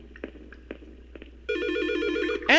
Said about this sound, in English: And we have a phone call